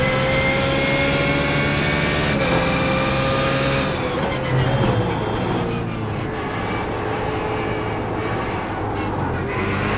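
BMW GT3 race car engine in the iRacing sim, a loud continuous drone with steady harmonic whine that rises and then dips around a gear change, sustained throughout at close range.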